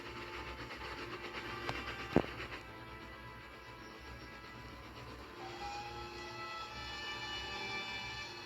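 A train departs from a quarry line, a steady low rumble and rolling rail noise with a sharp clank early on, moderately distant and fairly quiet, with no voices.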